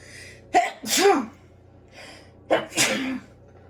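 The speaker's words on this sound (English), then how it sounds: "Sorry, I had to sneeze." Two loud sneezes, each preceded by a quick sharp intake of breath, separated by a short pause, over Dragon Age: Origins gameplay.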